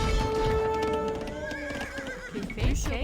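Horses neighing in the Age of Empires 2 video game: a clear whinny followed by clip-clop hooves and further neighs amid battle sounds, with a voice talking faintly underneath.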